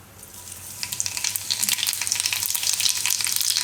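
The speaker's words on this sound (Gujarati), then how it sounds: "તેલ આપણું ગરમ થઈ ગયું છે. તો તેલમાં આપણે નાખીશું થોડું જીરું" Cumin seeds hit hot oil and sizzle loudly, the crackling building within the first second into a dense, steady frying hiss that carries on to the end.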